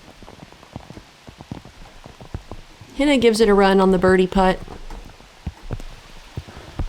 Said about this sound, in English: And the rain just getting worse by the minute.